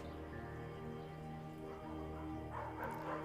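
A scruffy, undersized beagle barks in the video game Firewatch, its yips sitting quietly over a soft, steady game background.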